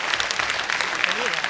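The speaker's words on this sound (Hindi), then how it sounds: "मैं चाहता हूँ पर जोरदार तालियों से आप उनका स्वागत करें।" Audience applauding at a poetry performance at IIM Calcutta, a dense wash of clapping from a crowd, loud and continuous.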